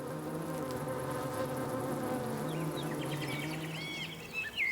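Honeybees hum in a steady, dense drone at the hive as it is prepared for winter, continuous and moderately close, with a few faint bird chirps near the end.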